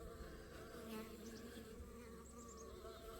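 Honeybees buzz steadily around a backyard hive in autumn, a faint continuous drone of many wings with no voices.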